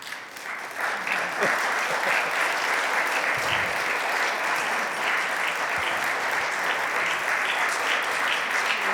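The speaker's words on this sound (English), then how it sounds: "A big round of applause." A crowd at a WJC gala gives a loud, sustained round of applause that swells after the first second and holds steadily, with a voice faintly present beneath the clapping.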